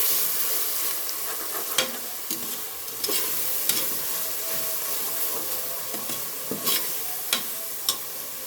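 Biryani ingredients for a country chicken biryani sautéing in a pan, a steady close sizzle with intermittent scraping and clattering as the mix is stirred, no talking.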